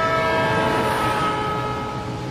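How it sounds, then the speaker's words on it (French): A moving train recedes while its whistle keeps sounding, the sustained tone over rail rumble gradually falling in pitch and slowly fading, with no voices. "vous entendez la fréquence du sifflement diminuer petit à petit."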